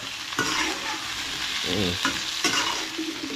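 Chayote sautéed with onion and garlic in a hot pan: a steady sizzle with repeated scraping stirs of the spatula, close and fairly loud, with no voices.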